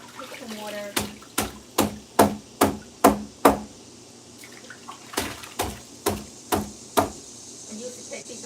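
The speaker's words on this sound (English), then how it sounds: "bang them against the tree in the yard" Pond filter pads are banged against a tree in a yard, giving a run of seven sharp, regular thuds, a short pause, then five more, close and loud over faint background noise.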